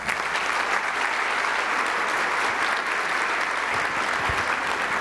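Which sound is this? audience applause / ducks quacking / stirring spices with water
audience applause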